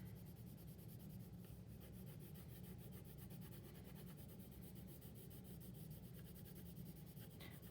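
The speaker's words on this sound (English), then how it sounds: "I'm going to add just a little bit of brown colored pencil on top of it" Soft, continuous scratchy rubbing of a brown colored pencil shading on paper, faint and close, with light repeated strokes throughout.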